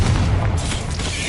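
Confringo blasting spell explodes in a wizard video game, a loud booming blast whose heavy low rumble swells early and then rolls on steadily, with no voices over it.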